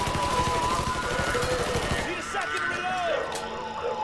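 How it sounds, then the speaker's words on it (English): Rapid bursts of gunfire from a Mafia 3 video game firefight crackle through a busy, continuous game soundscape, with someone talking over much of the clip. "I can see the gunfire."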